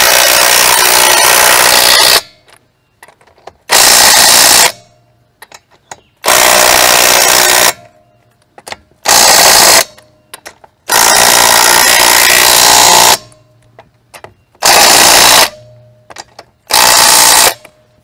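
UYUSTOOLS ILL202 brushless impact wrench tightening wheel bolts, with seven loud, full-band hammering bursts of one to two seconds each, separated by short quiet gaps.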